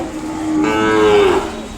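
A single close, loud moo from a calf at a cattle market, rising and drawn out for about a second, with quiet background and no talking.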